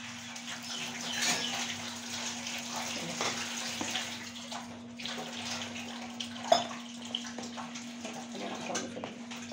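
Water poured into gram flour batter seasoned with cumin, dried coriander and dried fenugreek leaves: a steady, continuous trickling stream over a constant low hum, moderately loud and uninterrupted.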